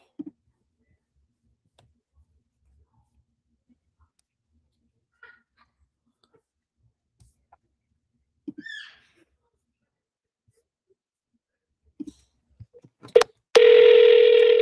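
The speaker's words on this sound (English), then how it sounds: "You guys hear that phone ring?" A telephone rings once, loud and close, a sustained electronic tone near the end that follows a few scattered clicks and soft sounds in an otherwise quiet room.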